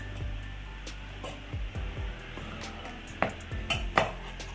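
A spoon stirs chili powder into dried mango pickle in a bowl, giving a few soft scrapes and clinks at irregular intervals, quiet and close, with no talking.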